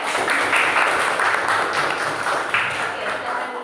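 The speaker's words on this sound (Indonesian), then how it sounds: "tepuk tangan juga ya." A classroom group applauds at close range, with a steady mass of clapping and a few voices mixed in.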